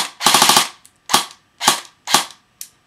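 An A&K M16 A4 airsoft gun fires a quick burst of rapid shots followed by four single sharp cracks at roughly half-second intervals, loud and close with no talking.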